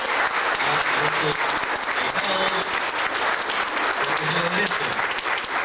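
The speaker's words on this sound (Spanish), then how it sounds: "démosle un gran aplauso a nuestros hijos" A church congregation claps for baptized children, dense continuous applause filling the room from start to finish, with a few voices mixed in.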